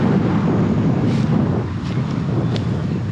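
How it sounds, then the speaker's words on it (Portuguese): Loud, gusty wind roars against the microphone continuously at Lagoa dos Patos, Brazil, with a low rumbling blast and a few faint clicks over it. "E o vento tá de lá pra cá mesmo."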